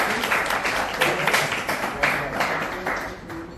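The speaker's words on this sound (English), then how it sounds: "Big round of applause, guys." Audience applause at a summer interns' farewell event, a steady wash of clapping that runs the whole length at moderate loudness, with some overlapping voices mixed in.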